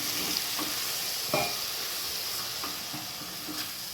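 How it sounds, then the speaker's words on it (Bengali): Chicken pieces for a home-made chicken chop sizzle steadily in a pan after a splash of water, with a continuous close hiss and a few stirring scrapes and clinks, no speech. "চিকেনগুলো সেদ্ধ করার জন্য অল্প জলের ছিটে দিয়ে দেবো,"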